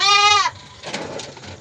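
A goat giving birth lets out one loud, close, drawn-out bleat, followed by quieter rustling and shuffling.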